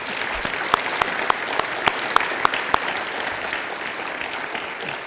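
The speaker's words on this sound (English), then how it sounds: "can we give a big round of applause to our panelists?" An audience at a university Constitution Day panel event applauds the panelists, with steady clapping and a few sharp, distinct claps standing out.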